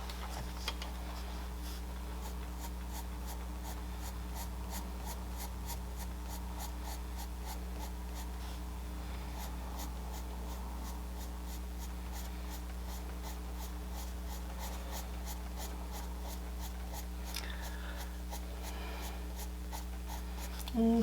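A pencil shades a pear drawing on paper, giving steady, rapid scratchy strokes that repeat evenly for the whole stretch, quiet and close, over a constant low electrical hum.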